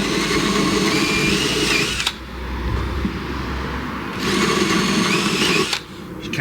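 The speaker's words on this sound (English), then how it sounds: "Just countersinking this ever so slightly." A power drill countersinking a hole during a 4x4 Sprinter campervan build, whining loudly for about two seconds, pausing, then running again in a second steady burst with a short stop near the end.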